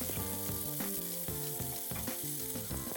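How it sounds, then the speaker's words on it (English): A smashed burger patty sizzles loudly and continuously on a hot griddle, a close, dense frying crackle lasting about three seconds with no talk. "Now that the burger is smashed, just give it a good flip."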